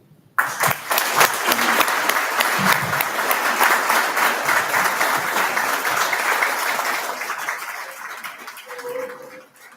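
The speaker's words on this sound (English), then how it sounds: "give Darryl a round of applause" A crowd at a hot rod and custom car hall of fame induction ceremony breaks into loud, dense applause that swells at once, holds steady for several seconds, then tapers off.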